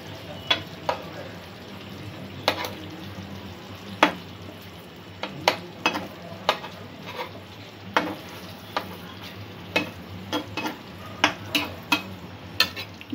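Hilsa pieces simmer in mustard gravy in a pan over medium-low flame, a steady soft bubbling under frequent sharp clinks and scrapes of a spoon stirring against the pan.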